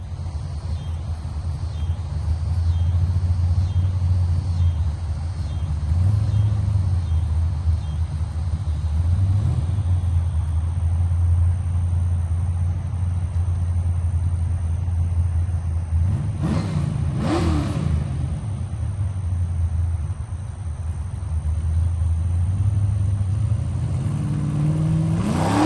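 A Chevy drag car's engine, shown on nitrous after a roll bar install, rumbles at a steady loud idle with occasional blips of throttle, one sharper rev midway and another rising at the end, no voices.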